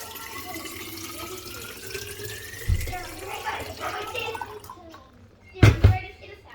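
Water from a kitchen tap runs into a container, a faint steady hiss with a couple of louder splashy bursts, while someone talks over it.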